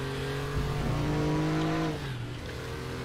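A Porsche Group C race car engine in the RaceRoom racing game roars loud and close, its pitch climbing under acceleration and then dropping off as the revs fall near the end.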